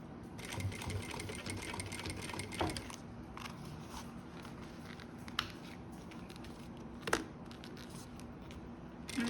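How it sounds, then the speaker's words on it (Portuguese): A sewing machine topstitching on stitch setting 4 while making a reversible double-sided zip pouch, running in a fast steady whir for about three seconds, then falling to quiet handling with a few sharp clicks and bumps. "E vou fazer um pesponto com o ponto 4."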